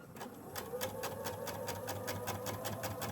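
A sewing machine stitches dark fabric with black thread, a steady, close, rhythmic needle chatter running fast and even throughout, no voices.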